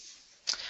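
A single short computer mouse click, close and fairly soft, as an OK button is pressed in mapping software.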